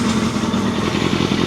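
Engine of a 1993 Yamaha FZR600 motorcycle running steadily after a carburettor clean, a close, even idle with a slight lumpy pulse and faint mechanical clatter.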